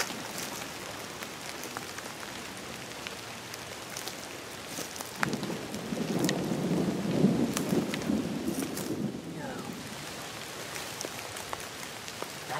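Steady rain patters on surfaces at a Florida hunting ranch while a low rumble of thunder swells partway through, then fades back to rainfall alone.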